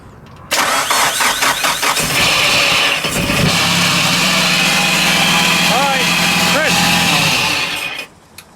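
A Nissan Pulsar GTI-R, a JDM car, cranks and catches at once, then settles into a loud, close, rough idle with a couple of quick revs before it shuts off; voices can be heard over the engine.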